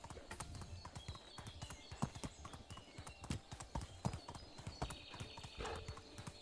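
Horse hooves clip-clopping in Medieval Dynasty, a steady run of close, crisp hoofbeats that continues throughout with no talking over them.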